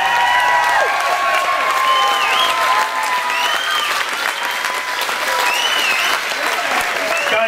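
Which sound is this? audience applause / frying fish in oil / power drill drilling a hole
audience applause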